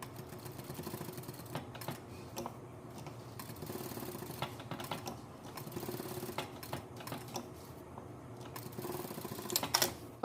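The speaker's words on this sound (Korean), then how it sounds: "스티치 놓겠습니다." A sewing machine stitches a silk-interfaced shirt collar in short rhythmic runs, a close mechanical rattle with brief pauses between bursts and no talking.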